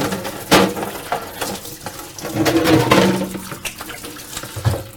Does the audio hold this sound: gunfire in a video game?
no